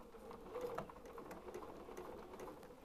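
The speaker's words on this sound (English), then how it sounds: "I want to start with a regular stitch and go backwards" A sewing machine runs a regular stitch in reverse on a doll-making panel, a faint, steady mechanical whir with a soft rapid ticking rhythm, with no talk.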